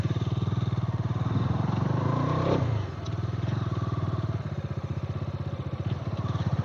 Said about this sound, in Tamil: நம்ம அப்படியே பைக் இங்கேயே பார்க் பண்ணிடுவோம் ஒரு ஓரமா,